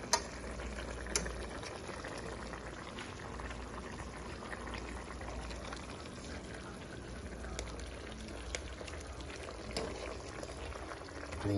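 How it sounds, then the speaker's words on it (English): Lobster sauce simmering in a pot, a steady low bubbling and sizzling hiss that runs throughout with occasional faint clinks, no talking over it. "You want to simmer in the sauce"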